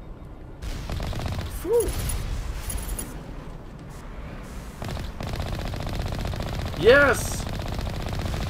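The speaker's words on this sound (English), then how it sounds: "We need to dodge the turret, and then we'll fire it again." Turret gunfire in Mass Effect: bursts of rapid shots and booming impacts rumble through the scene at moderate level, with a player's brief exclamations breaking in.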